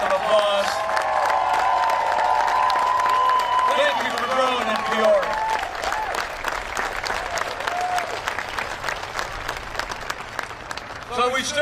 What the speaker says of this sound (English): Can we give Jason and Jane a big round of applause?